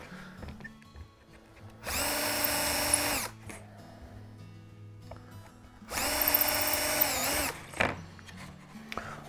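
A power drill bores dowel alignment holes in the deck beam and keel gusset of a wooden quarter-scale boat frame. It makes two loud, high whining bursts of about a second and a half each, separated by a quiet pause.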